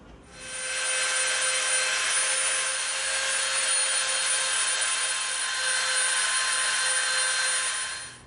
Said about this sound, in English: we're gonna taper this with our Dremel